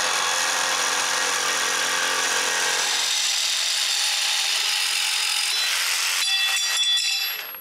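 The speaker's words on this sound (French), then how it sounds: "Je trace sa forme et c'est le retour vers la scie sauteuse." A jigsaw cuts through a wood panel, a steady loud buzzing rasp that runs continuously and shifts in pitch near the end as the blade finishes the cut.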